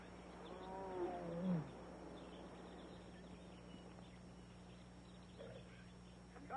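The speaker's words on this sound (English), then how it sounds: "you must get rid of this tiger." A tiger growls once, a short rough snarl standing out briefly over a steady low hum and faint ambience in a 1954 film scene, followed by quieter background.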